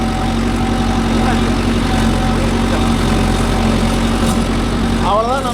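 A Mahindra Yuvo Tech Plus 585 4WD tractor pulls a nine-tine cultivator through dry farmland, its diesel engine droning loud and steady throughout at close range, with faint voices underneath.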